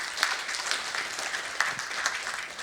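An audience at a smart lending panel discussion gives a round of applause for a panelist, a fairly faint, dense patter of many hands with a few sharper claps standing out.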